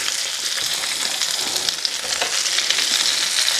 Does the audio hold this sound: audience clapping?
no